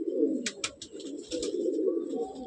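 Breeder pigeons in a loft give a low, continuous rolling coo close by, with a few brief fluttering or scuffling sounds and no talk.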